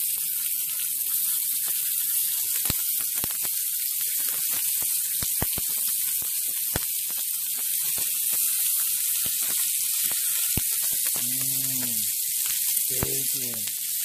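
Thick strips of bacon frying in a pan, a constant bright crackling sizzle with scattered sharp pops and spits throughout, a voice briefly heard near the end.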